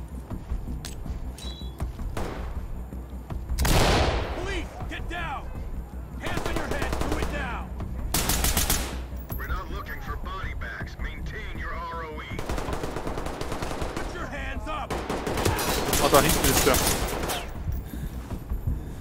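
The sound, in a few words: gunfire in the video game Ready or Not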